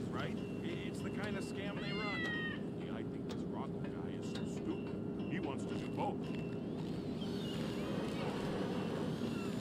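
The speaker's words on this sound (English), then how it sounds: "There's a cat." A cat meows briefly in Grand Theft Auto V, a short rising cry heard faintly under steady game ambience, with someone talking over it.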